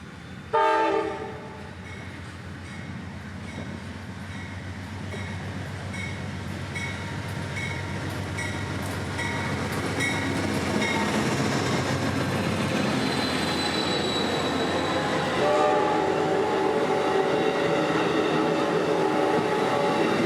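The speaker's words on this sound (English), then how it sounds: "Leading 91 today would be a P42, a bit beat up, but still working hard for the company in its final days." Amtrak train 91 led by a worn P42 locomotive roars past in Tampa, a horn blast sounding near the start before a long, steadily building rumble of engine and rolling cars with rising wheel noise.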